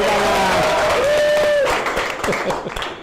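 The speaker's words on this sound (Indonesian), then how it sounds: "Ya, tepuk tangan." Classroom of students clapping together in a loud burst, a dense wash of claps with some chatter and a sung tune over the first part, thinning slightly toward the end.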